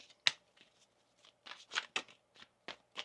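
A deck of tarot cards is shuffled in a quiet room, giving a sharp riffle followed by a run of soft, evenly spaced flicks and slaps close by.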